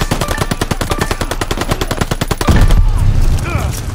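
Rapid automatic gunfire rattles in a fast, even burst in Call of Duty: Vanguard, loud and close, breaking off after about two and a half seconds into a louder rumbling blast.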